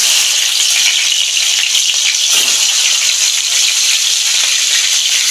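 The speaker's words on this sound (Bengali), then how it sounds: "তেল গরম হয়ে গেছে মাছগুলো ভেজে নিচ্ছি" Steady, loud hiss and crackle of catla fish frying in hot oil in a wok, continuous throughout with no voices.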